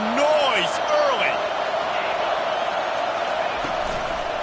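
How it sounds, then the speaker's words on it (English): A loud basketball arena crowd roars continuously, with whoops and whistles rising sharply near the start before settling into a steady, noisy wash. "This crowd bringing the energy and noise early."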